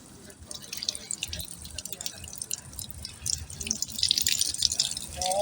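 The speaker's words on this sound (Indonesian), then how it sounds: "Sekarang kita buka dulu yuk keran airnya full" Water gushes from a fully opened tap into a container, a steady splashing flow that grows fuller as it fills, with a voice speaking over it.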